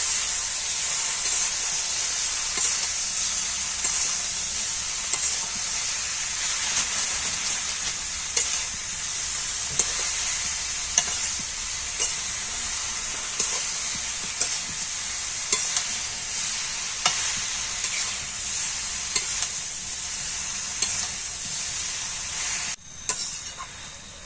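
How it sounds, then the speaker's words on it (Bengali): Boiled elephant apple is stirred and mashed with a spatula in a hot pan, giving a constant close sizzle and hiss punctuated by regular scraping taps, with no talking. "খুন্তি দিয়ে এটাকে নাড়ানোর সময় শিল নোড়ার কাজটা করে নেব"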